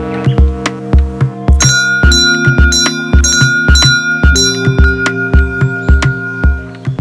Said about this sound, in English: you're supposed to ring this bell to scare off the bears